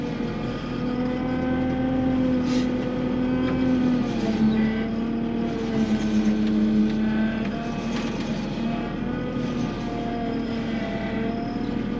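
A wheel loader drives along, its diesel engine humming in a steady, close drone with slight pitch shifts throughout and no talking.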